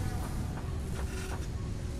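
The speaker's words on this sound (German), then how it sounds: "Wenn die Lüfter immer schön im Mikro brummen." Computer fans humming steadily into a nearby microphone, a constant close buzzing drone with faint fluctuations and no voices.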